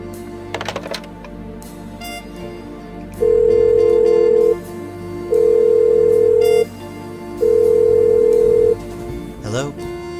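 Telephone in the point-and-click game Blackwell Unbound: three long, steady ringback tones pulse at regular intervals, loud and close, after a brief flurry of dialing clicks.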